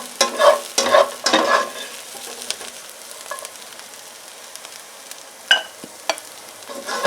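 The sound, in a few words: paneer frying and stirring in oil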